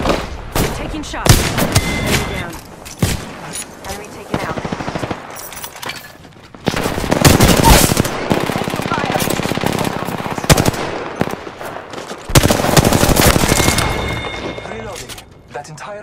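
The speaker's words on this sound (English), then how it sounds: "They're shooting at me." Loud bursts of automatic and single-shot gunfire in a squad-based shooter video game come in repeated volleys separated by short pauses, with occasional in-game voices heard between the shots.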